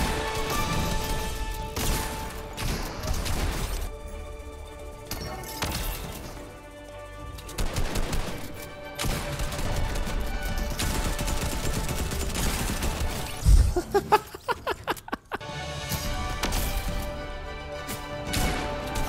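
Gunfire in a Fortnite match, with repeated shots and sharp impacts scattered across the stretch, including a quick burst of cracks near the end, over game background sound.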